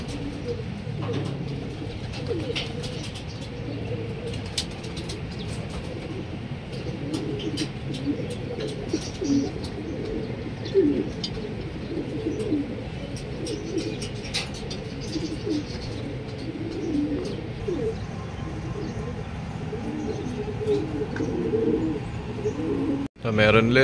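Racing pigeons coo at their loft during club training in Lucban, Quezon: soft repeated low coos and scattered chirps over an even outdoor rumble, steady for over twenty seconds.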